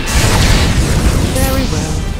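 A fire attack bursts in Octopath Traveler II, a loud, dense booming roar of flames sustained for a couple of seconds, with a brief rising whoosh partway through and a faint musical tone underneath.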